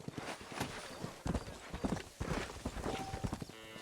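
Horse hooves clip-clop steadily at an easy pace in Red Dead Redemption, a close, rhythmic clatter that runs the whole time, with a brief whinny-like tone near the end.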